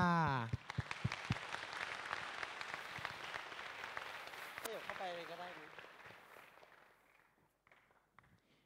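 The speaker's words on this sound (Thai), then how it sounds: "ขอเสียงปรบมือด้วยค่ะ" Audience applause at a Thai university concert fills the room as broadband clapping after a voice, steady for several seconds before thinning out, with a short spoken phrase midway.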